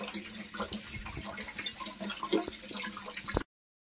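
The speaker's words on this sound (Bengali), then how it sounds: "তো বাসন ধুয়ে চলে আসলাম" Dishes are washed under running water at a sink, with continuous splashing and clinking of utensils nearby before the sound cuts off abruptly.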